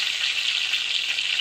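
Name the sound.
frying tulingan fish in a pan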